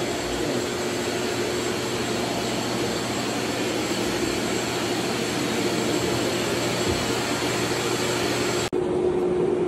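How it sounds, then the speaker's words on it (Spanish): A power cutter bites into a granite kitchen countertop to open a sink hole, making a loud, unbroken grinding whine close by that halts abruptly near the end. "Y estamos en el proceso de cortar el zinc, raza."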